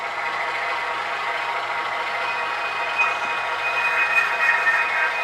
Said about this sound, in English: Brake squeal or flange squeal.